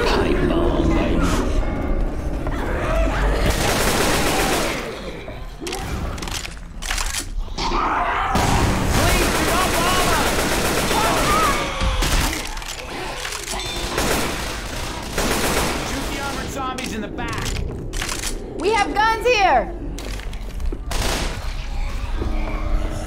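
Left 4 Dead 2 combat: a pipe bomb blast and sustained gunfire, loud and continuous bursts with crashes throughout, with shouted voices of players over the action.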